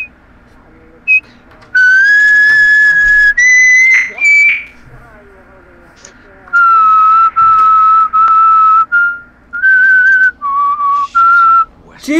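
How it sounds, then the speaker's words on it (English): Person whistling loudly and close into a headset microphone during a co-op Resident Evil 5 game session, a run of sustained piercing tones broken by short pauses, with faint game sound underneath. "I can't hear it over someone whistling"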